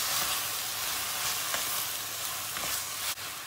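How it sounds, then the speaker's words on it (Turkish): Tomato paste fries and sizzles steadily in a pan with fresh tomato added, a constant close crackling hiss with a faint clink near the end. "Salçamız kavrulmaya başladı."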